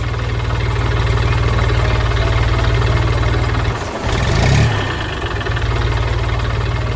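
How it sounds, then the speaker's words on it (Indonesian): A machine saw in an animation about a tractor rescuing a farm during a flood, grinding through tough wood among bushes and trees: a loud, steady motorized drone with a brief dip and surge partway through, heard alone. "Gergaji mulai berputar, menghancurkan kayu yang kuat, menghasilkan suara menggelegar dan debu yang mengembang ke udara."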